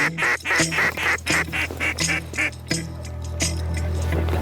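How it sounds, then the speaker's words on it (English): A flock of about five ducks passes directly overhead during a duck hunt, giving a rapid run of loud, close quacks that trail off after a few seconds. "Whole heap of ducks."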